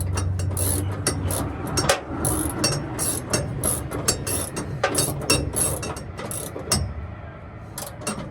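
A hand ratchet wrench clicks in quick repeated bursts while bolts are turned on a Belltech drop kit install for an 88-98 Chevy truck, close up with brief pauses between strokes.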